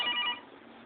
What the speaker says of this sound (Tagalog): Ang telepono kanina pa nag-ring.